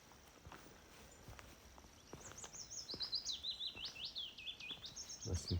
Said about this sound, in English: that's a willow warbler